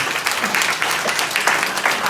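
Guests seated at tables at an empowerment brunch give a round of applause, with brisk, dense clapping at steady loudness for a couple of seconds.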